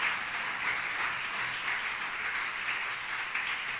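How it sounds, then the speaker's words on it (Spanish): A church congregation applauds in a steady, dense wash of clapping that holds at an even level from start to finish, with no voices rising above it. "Denle un fuerte aplauso a ese Dios grande, a ese Dios poderoso."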